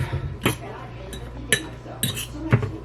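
Utensils clink and scrape against a bowl as a Mediterranean-style salad is tossed with za'atar seasoning, giving a few sharp separate taps, with talking in between.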